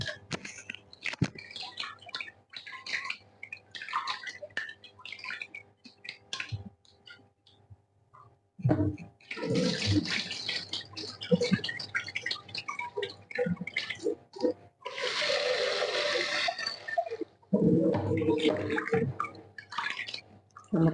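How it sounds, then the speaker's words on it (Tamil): Rice is washed in water in a home kitchen, with scattered clicks and small drips followed by bursts of sloshing and swishing water, close up and moderately loud, with no talking. "அரிசி கழுவிடுவோம்."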